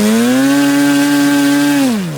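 An OS 91 FX model nitro engine, freshly rebuilt and running rich on 0% nitro fuel, holds a loud steady high-pitched whine close by, then drops in pitch as it throttles down at the end.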